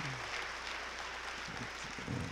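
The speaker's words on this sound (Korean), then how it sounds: "이분들을 위해서 박수를 보내주시죠" Congregation applause at a stained-glass dedication service in a church, a soft, diffuse and fairly distant clapping wash at low level, thickening slightly toward the end.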